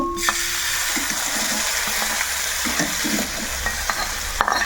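Tempering spices sputter in hot oil for drumstick-leaf dal, a continuous close hiss and crackle with scattered utensil taps and scrapes and a sharp clink near the end.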